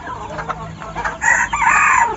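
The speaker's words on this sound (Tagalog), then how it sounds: "So yung bali 8 labuyo, manok dito, labuyo, ay meron na pong nagmamay-ari." Red junglefowl roosters crow loudly and close by, with overlapping crows and clucking from several fowl in quick succession.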